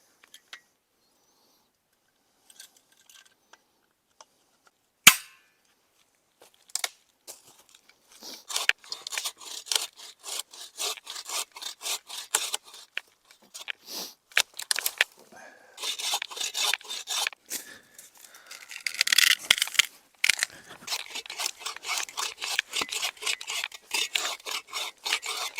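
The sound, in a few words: folding saw cutting firewood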